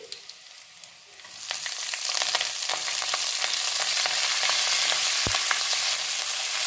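Beto greens drop into spices frying with black cumin and green chilli in a pan: a quiet start, then a loud sizzle rises and holds, with clatters of stirring and one sharp knock.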